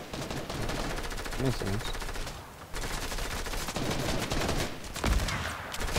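Rapid automatic gunfire from Fortnite crackles in dense bursts while the player is under fire, loud and continuous with short gaps, and someone speaks briefly over it.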